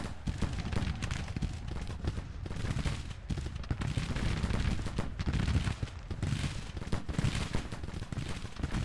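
Musket volleys from Civil War regiments in the strategy game Grand Tactician: The Civil War produce dense, continuous crackling gunfire with overlapping shots and rumbling booms, loud and unbroken throughout, with no talking.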